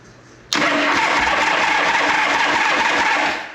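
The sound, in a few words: 1974 Harley-Davidson Shovelhead FX motorcycle engine starting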